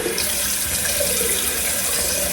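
Warm water runs steadily from a tap into a sink, a close, continuous splashing flow with no talking over it.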